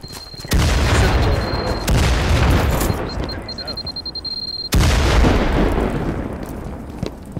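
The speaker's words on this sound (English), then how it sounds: "The grenade in there!" Loud, deep grenade blasts in the online shooter Firewall Zero Hour: three heavy booms, each with a long rumbling decay, close and dominant, with faint voice chat underneath.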